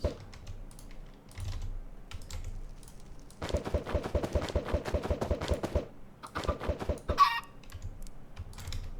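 Chickens from the Roost mod in Minecraft clucking in short game-sound bursts, mixed with loud bursts of rapid computer keyboard typing and clicking up close.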